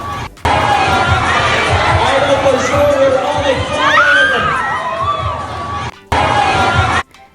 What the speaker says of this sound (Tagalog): Ganito daw kadami ang crowd waiting for Donny and Belle.